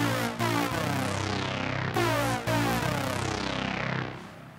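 Two synthesizers layer the same sync lead line for a track's introduction, giving a thick, buzzy tone. Sustained notes repeat with brief breaks, loud and up front, with no talking.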